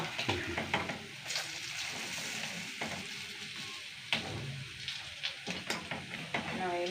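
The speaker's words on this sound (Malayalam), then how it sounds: "മീനൊക്കെ വറുത്തു" Mackerel frying in a pan gives a continuous dense sizzle with scattered crackles and pops throughout, close and steady, with faint voices in the background.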